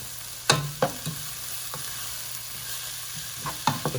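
Onions sauté in a pan for a kidney bean dish, giving a soft, steady sizzle under several distinct clinks and scrapes of a utensil stirring against the pan.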